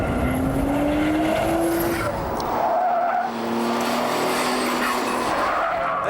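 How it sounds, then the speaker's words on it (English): Twin-turbocharged Ford Mondeo V6 in a race car, heard up close as engine revs rise and fall through gear changes, with tire squeal and whooshing blow-off sounds over a steady roar. "Every gear change sounds like 2 Darth Vaders shouting at one another."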